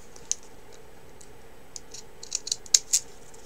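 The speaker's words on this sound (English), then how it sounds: "And this time I'm going to take fancy scissors" Fancy-edge craft scissors snip paper for a handmade book card, a few faint scattered clicks at first, then a quick cluster of sharper close cuts near the end over a quiet room.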